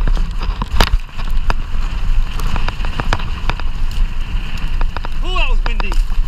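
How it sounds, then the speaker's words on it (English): Strong wind gusts buffet a wooded mountain bike trail, rough broadband rushing with sharp cracks and knocks mixed in, and a brief whistling tone near the end. "Wait for this wind to die down a little bit."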